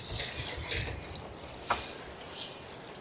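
Water sprinkles onto a garden seed bed set for pak choi and carrots on a windy day, a soft, continuous hissing spray with a faint splash partway through.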